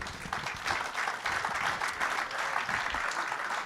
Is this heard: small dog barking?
no